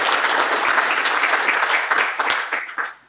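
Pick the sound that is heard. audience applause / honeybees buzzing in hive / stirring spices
audience applause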